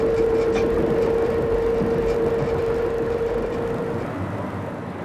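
A Berlin S-Bahn electric commuter train runs in old archival film footage, a steady rolling rumble with a sustained tonal hum that fades slightly near the end.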